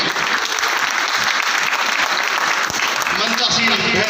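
An audience at a Hindi poetry gathering (kavi sammelan) applauds vigorously, continuous close clapping throughout with some murmured voices underneath.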